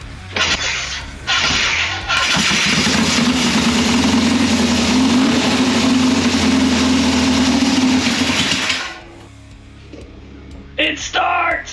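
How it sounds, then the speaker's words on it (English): A 1960 Triumph chopper motorcycle engine fires up after brief cranking, then runs loud and close with a steady, rough idle for several seconds before cutting out, followed by a few short bursts of noise. "Should be able to fire this thing off, so let's go give it a try."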